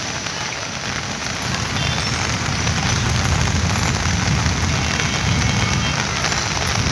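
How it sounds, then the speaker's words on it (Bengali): Heavy rain pouring down at a large cattle market in Old Dhaka, a loud, unbroken hiss and patter of downpour on surfaces, steady and close throughout with no voices. "প্রচণ্ড বৃষ্টি, এত বৃষ্টি হচ্ছে গরু হাটে"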